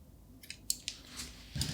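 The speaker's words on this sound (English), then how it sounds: "So we just have to cut off string," Scissors snipping recycled cotton string yarn while finishing a crochet tote bag, a few short, quiet crisp cuts in quick succession, close by with no talking.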